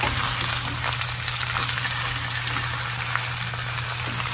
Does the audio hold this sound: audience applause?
no